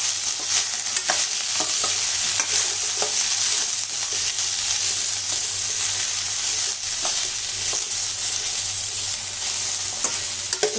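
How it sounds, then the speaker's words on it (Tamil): Chopped vegetables and a large sliced onion sautéing in a pan for ground-masala sambar, with a steady continuous sizzle and frying hiss and occasional stirring scrapes throughout, no talk. "இது எல்லாமே நல்லா வதங்கணும்."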